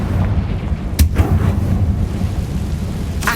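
A Confringo fire-blast spell in Hogwarts Legacy bursts as a sharp, loud explosive boom about a second in, followed by rumbling decay, with a fainter second crack right at the end.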